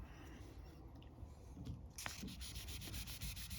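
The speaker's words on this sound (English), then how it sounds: "And this I'm using 1500 grit here on a foam block." Paint on a Porsche 914 is wet-sanded with 1500 grit paper on a foam block, a soft, steady back-and-forth rasp heard up close and fairly quiet, with no talking.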